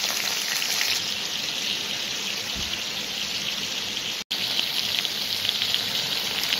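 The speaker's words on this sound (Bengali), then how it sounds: "ঘি গরম হলে একে একে সমস্ত চিকেনের টুকরো সুন্দরভাবে কড়াইতে সাজিয়ে দেবো" Chicken pieces fry in hot ghee in a kadai, giving a steady, close sizzle that runs unbroken apart from one momentary cutout.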